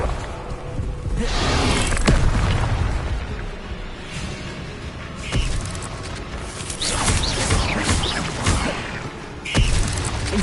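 Fire spells cast in Hogwarts Legacy, several loud bursting whooshes and booms spread over ten seconds, with repeated flaring blasts near the start, middle and end over a dense background of game effects.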